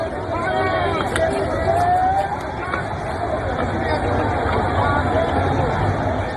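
Angry rioting crowd in Bangladesh, a dense roar of many voices shouting and clamouring at steady loudness throughout, with scattered higher yells rising out of the din.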